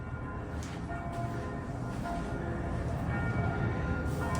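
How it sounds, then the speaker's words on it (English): The bells of Notre Dame Cathedral ring from a distance, heard from inside a hotel room as faint, repeated ringing tones over a low background hum. "Those are the bells of Notre Dame."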